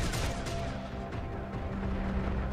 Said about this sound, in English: Gunfire at the integrator.